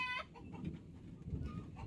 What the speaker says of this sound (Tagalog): So medyo maingay na yung manok natin dito.